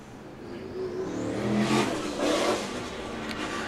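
A sprint car engine revs and accelerates on a dirt speedway during qualifying laps, rising to a loud roar before easing off.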